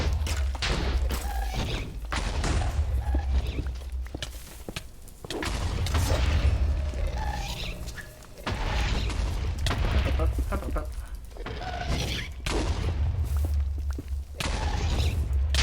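Explosions in a Minecraft game, heavy booming thuds and blasts firing repeatedly in clusters, loud and near, with game noise filling the gaps.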